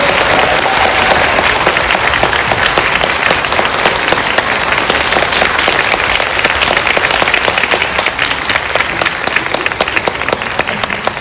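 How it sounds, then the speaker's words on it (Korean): Loud, steady applause from a book talk audience welcomes an author and two actors, a dense wash of many hands clapping without pause for over ten seconds. "큰 박수로 맞아주시면 감사하겠습니다."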